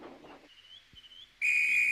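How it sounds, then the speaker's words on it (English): A railway guard's whistle at a station: a faint thin whistle drifts early on, then a loud, shrill, steady blast starts sharply and holds to the end. "Oh, that's my guard's whistle."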